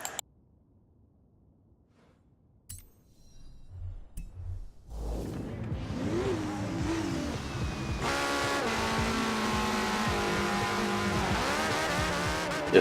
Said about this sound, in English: If your first gear is too short, even the slightest amount, it'll wheel spin.